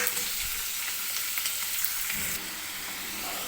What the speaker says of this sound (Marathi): तर 1-2 मिनिटे मी हे पनीर तेलामध्ये फ्राय करून घेते.